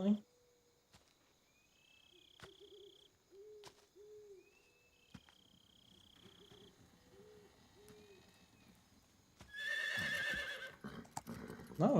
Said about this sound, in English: That's a horse. And it's got a saddle and everything.